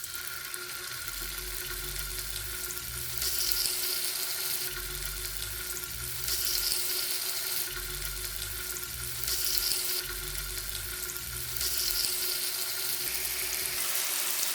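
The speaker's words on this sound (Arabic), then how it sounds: "هلأ انا بنزل قطع الشاورما، ولكن ضروري انه ما نحطها فوق بعض حتى ما تنزل معنا مية كتير" Chicken shawarma pieces hit hot oil in a pan over high heat and fry with a continuous broadband sizzle that swells and eases in waves, close and fairly loud, with no talking.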